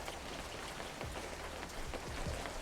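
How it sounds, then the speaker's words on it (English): Steady rain falls in the fishing video game Webfishing, an even hiss of drops with a few louder splashes, heard alone with no talk. "Oh, we've got rain."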